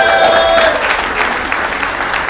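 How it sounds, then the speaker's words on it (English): Loud, close audience clapping during a talk on digital gold and a voice-over-blockchain phone, with a faint tone ringing at the start as the applause continues steadily. "some of you are clapping because you know what that means"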